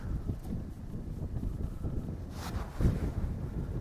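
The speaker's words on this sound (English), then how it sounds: "That's just some wind blowing." Wind buffeting an outdoor microphone during a kayaking outing on the water, a continuous low rumbling roar with gusts swelling near the end, no speech.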